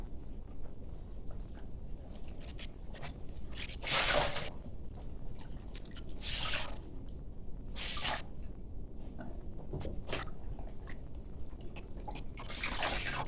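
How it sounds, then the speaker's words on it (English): Wet clothes are squeezed and twisted by hand in repeated bursts, water splashing and dripping between each wring, close by. "then we're going to wring out our clothes by hand and put them in our rinse water"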